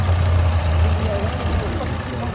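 A 2015 Buick Encore engine idles steadily after valve cover gasket work, a low, even running hum throughout with no change in pace.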